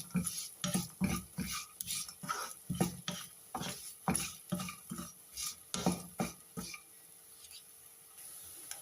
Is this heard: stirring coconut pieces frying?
yes